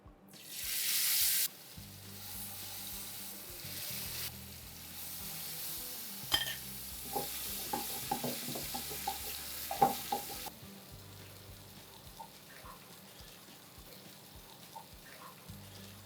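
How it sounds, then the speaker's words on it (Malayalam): Parrot fish frying in hot oil on a tawa: a burst of loud hiss at the start, then a steady crackling sizzle with irregular pops and spatters, close and continuous, no one speaking. "അപ്പോൾ എണ്ണ ചൂടായിട്ടുണ്ട് അപ്പോൾ കിളിമീൻ വറുത്തെടുക്കാം"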